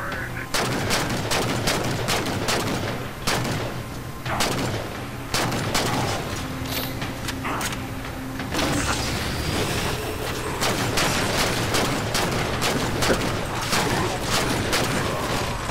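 Dense, continuous gunfire from a Halo 4 Spartan Ops firefight: repeated sharp rifle bursts and booming shots overlap throughout at steady loudness, with a faint speaking voice now and then.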